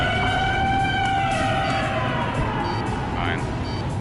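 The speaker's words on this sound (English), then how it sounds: "Sound the air raid siren." Air raid siren in the video game Ace Combat 5 wails in long, rising and falling tones, loud and steady, with voices talking over it.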